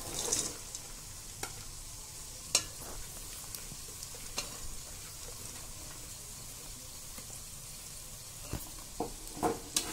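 Onions frying in a pan make a soft, steady sizzle at low level, broken by occasional light taps and scrapes of stirring. No talking.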